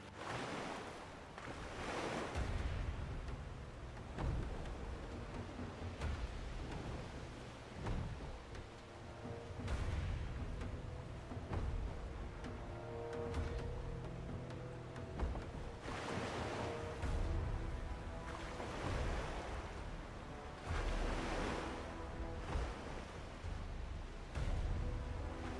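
Ocean waves while sailing a ship in a video game: surf washing in repeated surges over a steady windy hiss, with a faint tonal background underneath.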